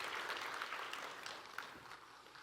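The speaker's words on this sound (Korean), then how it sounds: "우리 이호상 대표님께 더 큰 박수 부탁드리겠습니다" Audience applause at an entrepreneurship concert, a dense patter of many hands at moderate distance that gradually fades toward the end.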